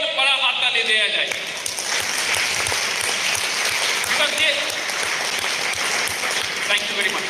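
A conference audience applauds with a steady wash of clapping that fills the whole stretch, loud and dense. Voices murmur faintly underneath.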